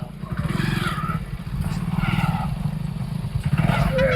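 A motorcycle engine pulls away in a village comedy accident scene, a close, low throbbing drone that surges and rises near the end, with voices speaking over it.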